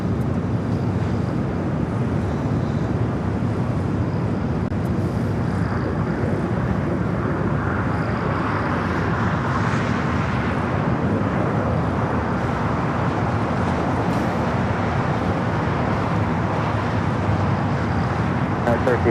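An American Airlines A321neo jet departs LAX with a sustained, broad engine roar that holds steady throughout, overlaid with wind buffeting and voices talking nearby.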